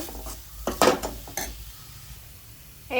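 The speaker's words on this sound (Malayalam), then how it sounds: "സോ നമുക്കിനി നമ്മുടെ പൊടികളൊക്കെ ഇതിലേക്ക് ആഡ് ചെയ്തെടുക്കാം. നല്ല രീതിയിലൊന്ന് മിക്സ് ചെയ്യാം." Spice powders stirred into sautéed onion masala in a pan for egg rice, with a few clinking scrapes of a spoon against the pan and a soft sizzle, then quiet.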